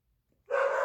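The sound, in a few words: dog barking in the background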